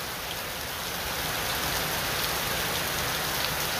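Steady rain pours onto a stadium under construction, its dense, even hiss filling the scene at moderate loudness with no voices or other sounds over it.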